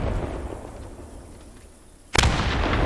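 A grenade explosion in the WWII shooter Post Scriptum bursts suddenly and loudly after a stretch of quiet rumbling ambience, with a broad crack followed by sustained rolling noise.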